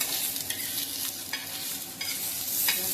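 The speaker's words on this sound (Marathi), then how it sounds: "हे तेल टाकून भाजायचा त्याला। म्हणजे आता थोडं लाल गुलाबी सारखा परतून घ्यायचा कांद्याला" Thick-cut onion sizzles steadily in hot oil on a griddle, with a utensil scraping and stirring every second or so.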